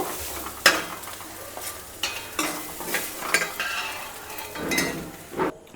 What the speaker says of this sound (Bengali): মিডিয়াম ভাজতে হবে কারণ বেশি কড়া ভাজলে বা শক্ত হয়ে যায়